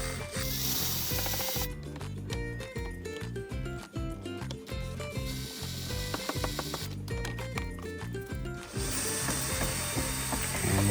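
A ratchet wrench backs out bumper screws on a 2023 Honda Odyssey Sport, producing rapid, loud, close-up clicking in steady bursts that pause briefly and resume, with no talking.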